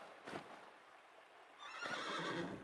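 A horse neighs in a video game. There is a brief whinny, a quiet pause, and then a longer, breathy neigh with some rustling.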